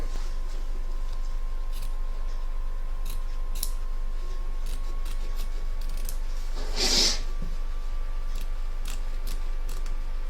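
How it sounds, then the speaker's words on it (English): Scissors snip through excess embroidery fabric around a machine hoop in close, quiet strokes, with one louder, sharper cut partway through and faint clicks and rubs between. "Trim away the excess fabric from both back and front of your hoop"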